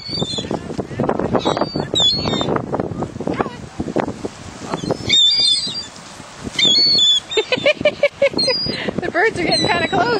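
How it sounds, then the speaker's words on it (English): Birds squawk and flap close overhead while being fed French fries outdoors, their calls scattered among steady wind noise and frequent nearby talk from people. "The birds are getting kind of close, aren't they?"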